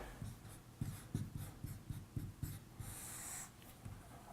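Chalk or marker strokes on a board during a calculus lecture, a run of rhythmic taps and scratches close by, then a longer scrape, all fairly quiet and without speech.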